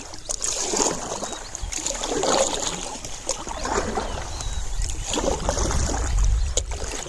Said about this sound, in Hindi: मुझे नाव की सैर पे लेके जा रहा है।